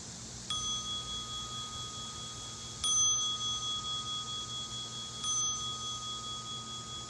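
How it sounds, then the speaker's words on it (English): A bright meditation bell rings three times at spaced intervals, each tone clear and sustained, ringing out over a soft steady background hum. "listening for the sound of the bell"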